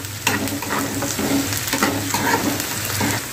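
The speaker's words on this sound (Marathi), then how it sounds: "चांगला गोल्डन कलर येईपर्यंत आपण कांदा आता भाजून घेऊया." Onions frying in oil for a Maharashtrian pithla, a loud close sizzle with frequent spatula scrapes and knocks against the pan as they are stirred toward golden.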